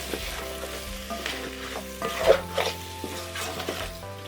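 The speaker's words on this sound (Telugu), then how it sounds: "వేయించుకుందాం రెండు నిమిషాలు అయ్యి తిప్పుకొని" Chicken pulao masala sizzling and frying in a pot while being stirred, with a steady crackle, scraping spoon strokes and occasional clinks of metal against the pan, fairly quiet with no talking.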